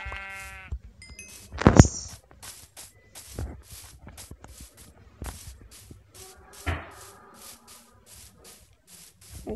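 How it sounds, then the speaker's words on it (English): Minecraft sheep bleat in short wavering calls amid the game's rustling footsteps and block sounds, one bleat near the start and another later, fairly close and clear. "Sheep! Sheep, sheep,"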